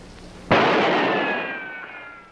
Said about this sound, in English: I only shot at one of them, and I hit it.